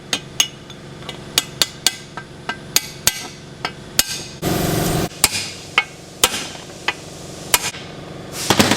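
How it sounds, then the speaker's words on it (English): Bearings tapped down into a Cummins transfer case with a hammer, a run of sharp metallic taps in an irregular rhythm with a short grinding rasp partway through, loud and close with no talking. "Put our bearings down in our case now. We got our snap ring back in for the sun gear. We're going to tap these down in."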